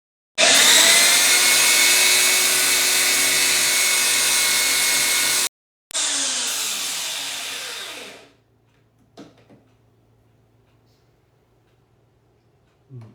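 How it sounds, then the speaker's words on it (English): A power sander works the edge of a stretched silver Connecticut state class ring enlarged to size 14: a loud, steady whirring grind cuts out briefly, restarts, then winds down, followed by a few faint clicks. "I need to sand this edge"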